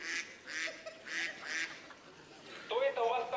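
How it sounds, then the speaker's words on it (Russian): Several nasal duck quacks come in quick short bursts, close and fairly loud, with a voice speaking between and after them. "Кто это у вас там крякает?"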